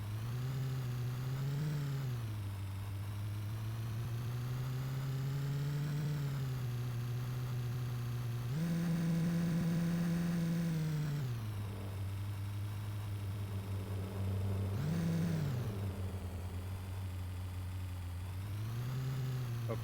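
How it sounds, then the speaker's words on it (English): A car engine in the Car Dealer Simulator video game drones steadily while driving to the garage, its pitch rising in several revving surges and falling back to a smooth mid-range hum, with no talking. "So I'm going to drive it to the garage."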